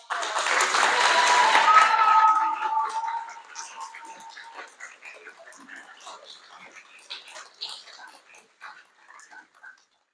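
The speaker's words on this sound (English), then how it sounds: "Can I have one more round of applause" Audience applause and cheering at a student speech event, loud and dense for about three seconds, then fading into scattered claps and light crowd noise until the end.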